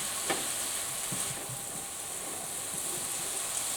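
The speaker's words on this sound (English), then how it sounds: "you can hear when the temperature drops, the sizzling goes lower" Stir-fried rice sizzling in a hot pan in a school kitchen, a steady moderate hiss with soft scraping stirs, the sizzle easing slightly as the heat drops.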